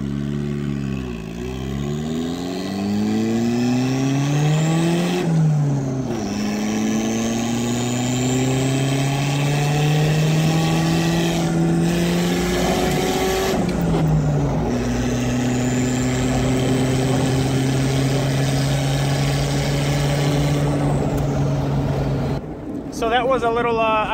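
A boosted RT4WD wagon accelerates from 0 to 60 mph, its engine pitch climbing steadily through each gear, dropping briefly at two shifts, then pulling again; loud, close and continuous throughout.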